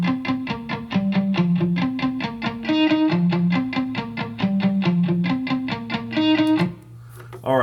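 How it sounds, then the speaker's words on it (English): A simple repeating guitar loop played dry, plucked notes in an even rhythmic pattern cycling through a few pitches, close and clear, with a short pause and held note near the end. "it's just a simple kind of guitar loop pattern that I was sitting down and playing"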